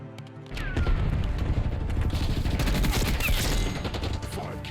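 M16 burst rifle in Black Ops 6 firing rapidly in sustained bursts, loud and close, with dense rattling shots across most of the stretch and a brief voice early on.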